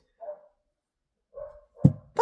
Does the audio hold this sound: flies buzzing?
no